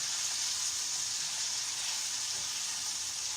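Meat and onions frying slowly in a skillet, a continuous bright hissing sizzle, steady and close, with no talking over it.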